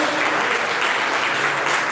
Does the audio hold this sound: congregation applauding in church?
yes